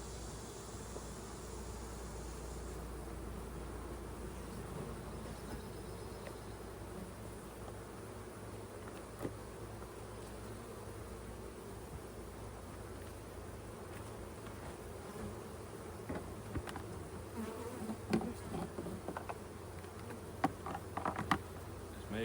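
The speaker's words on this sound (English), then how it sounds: "They got plenty of bees." Dense, steady drone of many honey bees buzzing in a hive, continuous and close throughout, with no talking over it.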